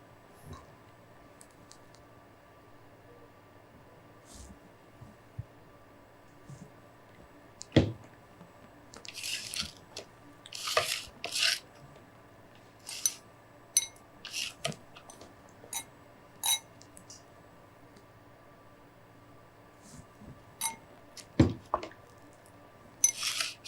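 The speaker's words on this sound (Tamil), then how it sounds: "நல்லா அழுத்தி பிசைஞ்சிக்கணும்" Dough for peas puri being kneaded and pressed by hand, giving soft, irregular squishing and sticky slapping sounds that come in scattered bursts over a quiet background.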